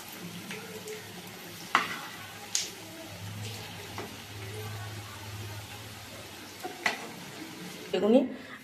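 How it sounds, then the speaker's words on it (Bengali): Onion fritters (peyaji) fry gently in oil with a soft, steady sizzle, broken by a few sharp clinks of a spoon or ladle against the pan. "এটাকে পেঁয়াজিটাকে ভাজছি আমি।"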